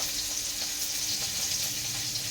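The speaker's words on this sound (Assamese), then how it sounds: "পাভ মাছটো অলপ ভাজি লৈছোঁ" Pomfret fish frying in a pan gives a steady, close, continuous sizzle with no talk over it.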